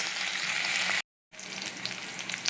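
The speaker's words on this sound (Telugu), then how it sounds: "ఇప్పుడు వీటిని కూడా కొంచెం క్రిస్పీగా వచ్చేంత వరకు వేసుకుందాం" Vegetables such as okra, drumstick, ivy gourd and potato fry in oil toward crispness, giving a steady close sizzle with small crackles, interrupted by a brief gap of silence, with no one speaking.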